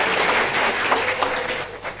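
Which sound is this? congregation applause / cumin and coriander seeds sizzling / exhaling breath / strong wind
congregation applause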